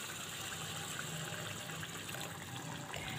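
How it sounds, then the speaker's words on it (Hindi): A cup of water pours into a fish karahi as a steady, faint rushing gush that lasts the whole time, with no talking. "अब हम इसमें एक कप पानी डालेंगे"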